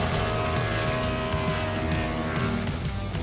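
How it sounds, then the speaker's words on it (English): NASCAR Cup Series race cars roar around the track at the Charlotte Roval in iRacing, a loud, continuous engine drone with wavering pitch as several cars run close together. "You hear that? We got cars on track once again."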